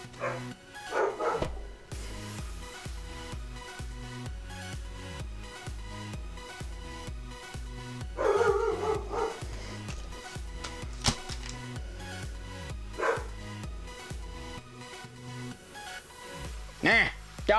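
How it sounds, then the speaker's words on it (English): Dog barking repeatedly in an indoor room, the barks cutting through ongoing talk and background music across the clip. "Nah, dog, shut up!"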